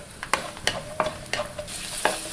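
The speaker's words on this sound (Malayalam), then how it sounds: "കാഷ്യൂനട്ട് ഒന്ന് കളർ മാറി വരുന്നതിലേക്ക് കിസ്മിസ് ചേർക്കാം" Cashews and raisins fry in hot ghee and oil for a Christmas mutton dum biryani, a steady close sizzle broken by repeated sharp scrapes and clinks of a stirring spoon, with no talk.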